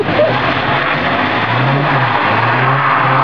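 A car engine roars close by while doing doughnuts, revving hard and steadily in first gear, its pitch rising and falling slightly as it is held at high revs.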